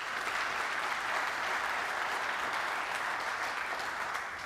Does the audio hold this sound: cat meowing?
no